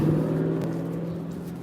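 A purple car drives by close and fairly loud near a harbor bar, a steady engine hum and whir that slowly fades.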